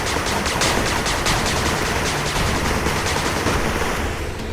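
Sustained rapid gunfire from the video game Renegade, a dense continuous rattle of overlapping shots that stays loud throughout with no pause.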